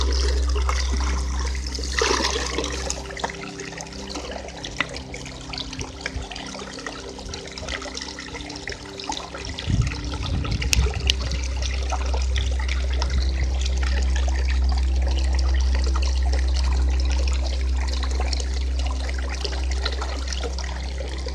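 Liquid decomposer mother solution, about two litres, poured into a container for a second-stage waste decomposer batch, a steady trickling stream with a steady low hum beneath it and a brief louder splash partway through.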